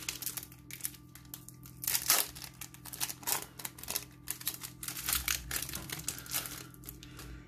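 Foil Panini Adrenalyn XL UEFA Champions League 2011/12 trading card packs are torn and crinkled open, a close, quiet run of irregular crackling rips with no talk over it.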